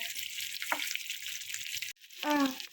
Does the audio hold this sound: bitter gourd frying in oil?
yes